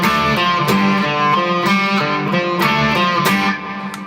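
An electric guitar with effects or distortion plays the last line of the Left 4 Dead 2 main theme as a tight rhythmic riff of repeated picked chords with regular accents, loud and close, easing off at the end.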